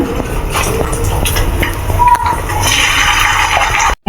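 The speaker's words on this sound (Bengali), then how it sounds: "চামচি করে অল্প অল্প দিয়ে তুলে তুলে দিয়ে দেবো তেলের মধ্যে" Spoonfuls of catla fish roe hitting hot oil in a pan, giving a loud, steady sizzling hiss that carries on throughout with brief bubbling bursts and a short drop near the end.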